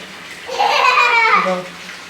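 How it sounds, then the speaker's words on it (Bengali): Water splashes and sloshes in a basin as someone dips into it. A short, close burst swells and fades, with no talking. "গামলাতে ডুব দাও, তাড়াতাড়ি দাও।"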